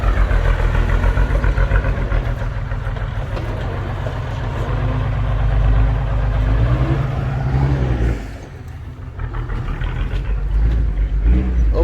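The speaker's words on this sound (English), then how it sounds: "Over there is a sand truck." A sand truck engine rumbles loudly and steadily in the countryside, a deep idling throb that dips briefly before returning, with faint voices nearby.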